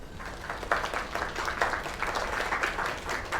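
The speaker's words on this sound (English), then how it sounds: "Another round of applause." Audience applause at a live talent-show finale, a steady wash of many hands clapping at moderate volume, sustained throughout with no voices over it.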